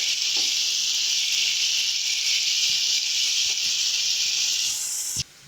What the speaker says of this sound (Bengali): ভালো করে এটাকে আমাদের একটু কষিয়ে নিতে হবে